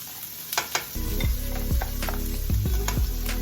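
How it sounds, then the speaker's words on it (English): Leftover spinach and cheese hit a pan of brown butter and sizzle steadily, with a few scraping stirs of a utensil against the pan recurring under the frying. "our leftover spinach with the cheese, we're gonna go ahead and put that in our pan"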